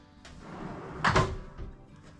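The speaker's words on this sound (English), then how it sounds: "So there's the drawer, full extension." A drawer on full-extension slides rolls along its runners with a soft rumbling glide and a clunk near the middle, quiet and close, with no talk.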